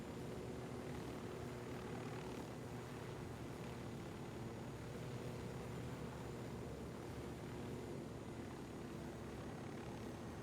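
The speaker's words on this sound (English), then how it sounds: "Another chopper over there." Helicopter flying in the Ghost Recon Wildlands video game, a steady, unbroken rotor and engine drone filling the scene at moderate level without talk.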